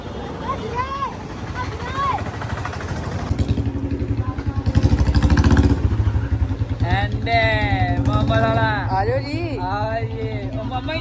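A Royal Enfield Bullet motorcycle engine rumbles steadily up close as it pushes through deep floodwater, with people talking loudly over the noise.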